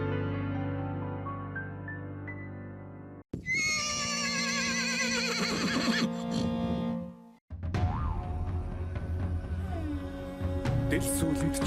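A horse neighs loudly and close, long whinnies with a wavering, descending pitch, separated by brief silences, with faint hoof clops and ambient hum beneath.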